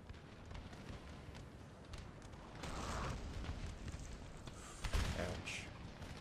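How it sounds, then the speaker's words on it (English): Cannon artillery fire in the Napoleon: Total War battle game, distant rumbling booms and crackling volleys layered over a constant battlefield din, with a louder blast near the end. "Get some cannon on them."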